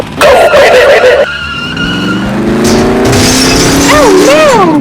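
Hot Wheels diecast toy cars race along a track, with loud squealing skids, then a sharp crash and scrape as a car slams into a wall, rising tire whines after.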